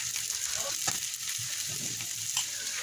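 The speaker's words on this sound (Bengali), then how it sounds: "পেঁয়াজ আর রসুনটাকেও ভালো করে একটু ভেজে নিচ্ছি লাল লাল করে।" Onion and garlic fry in a pan, browning to a reddish colour, giving a steady close-up sizzle with a few stirring scrapes and clacks throughout.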